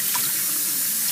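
Steady rush of lukewarm tap water running over Kool-Aid-dyed linen in a sink, a continuous close splashing flow with no pauses.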